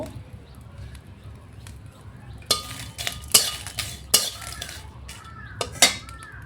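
Chilies frying in a pan and being stirred, with sharp metal scrapes and clinks from the utensil coming in irregular bursts over a low background hum, and faint bird cooing in the distance.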